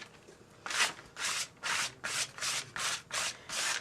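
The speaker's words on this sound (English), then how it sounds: "scraping versus brushing, I think you got way more out of the paint with scraping" Paint is scraped across a file folder in eight even, rhythmic rasping strokes, each a close, dry swipe with brief pauses between, alone with no voices.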